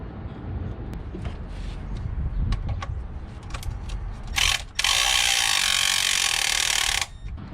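Ratchet working a coil pack nut loose on a car engine: a run of quick mechanical clicks, then a sustained loud buzzing ratchet spin toward the end, close and alone with no talking.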